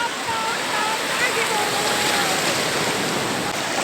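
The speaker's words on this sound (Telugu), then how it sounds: "ఇది చాలా ఫాస్ట్గా ఎన్నికి వస్తున్నాయి నీళ్ళు" Fast seawater rushes in at a beach in Nellore, giving a loud, continuous roar of surf and running water that stays steady throughout.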